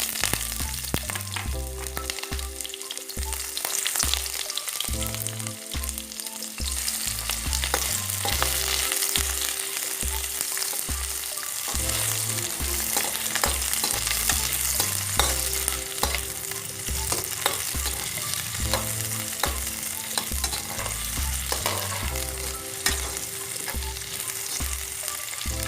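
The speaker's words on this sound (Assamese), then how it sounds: "তেলখিনি গৰম হ'ল আৰু এতিয়া আমি কাটি লোৱা পিঁয়াজখিনি দি দিওঁ।" Chopped onions fry in hot oil in a wok for an Assamese fish curry, giving a steady, dense sizzle that runs throughout beneath loud rhythmic background music.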